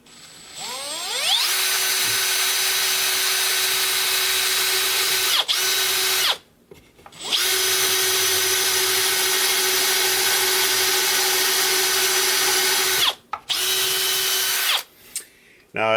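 A power drill with a countersink bit bores pilot holes into wood for a router jig, whining steadily at high speed in long runs, with two brief stops and restarts, close and loud.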